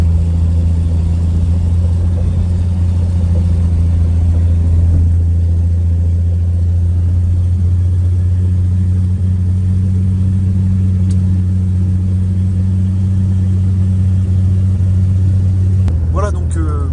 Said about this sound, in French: je suis en train de faire le premier essai de la voiture